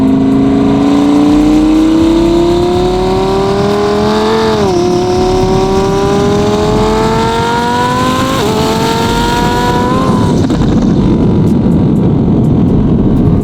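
Roughly 2500 hp twin-turbo Audi R8 V10 pulling hard: a loud, close engine note climbs steadily through the revs, dropping briefly at two automatic upshifts before rising again, with no talking over it.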